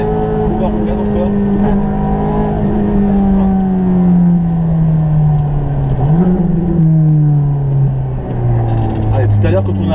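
Race car engine accelerating hard on the Ferrari circuit, a loud, close, continuous tone climbing and dipping through a gear change near the six-second mark. Someone talks over it throughout.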